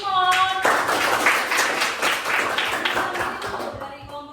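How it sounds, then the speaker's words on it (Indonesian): A classroom breaks into applause for a student named Simon, a dense burst of clapping from many hands lasting several seconds, with a teacher's voice heard just before and after. "Berikan aplaus untuk Simon."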